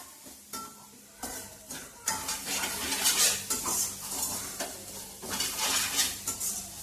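Grated coconut roasting in a pan for coconut burfi, with a spoon repeatedly scraping and stirring against the metal over a soft background sizzle, the strokes becoming louder and denser as it goes on.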